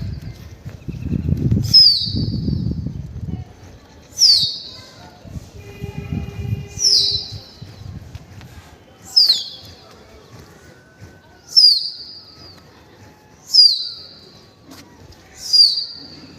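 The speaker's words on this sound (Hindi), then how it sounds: "ये जाता हुआ भाई कबूतर दोबारा।" Sharp bursts of a pigeon's wing flapping in flight repeat at steady intervals, seven in a row, with a low murmur of voices near the start.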